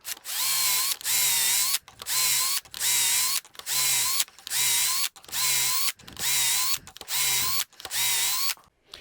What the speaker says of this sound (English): I can go ahead and drill those holes now.